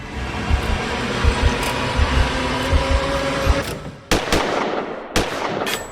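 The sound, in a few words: gunfire sound effect in short movie gun scene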